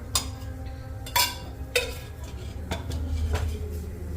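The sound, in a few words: stirring and roasting atta barfi mixture with ghee in pan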